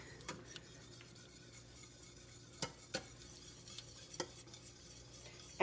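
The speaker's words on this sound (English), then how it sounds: "we're whisking up our bechamel now" Bechamel sauce being whisked in a pot over low heat, soft intermittent scraping and clinking of the whisk against the metal, faint and sparse with a low background hum, no voices.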